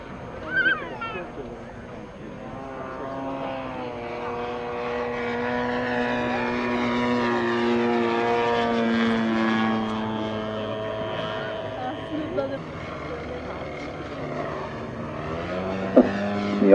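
An Extra 260 aerobatic propeller plane's engine drones steadily with a rising and falling whine, fairly close, while people talk over it.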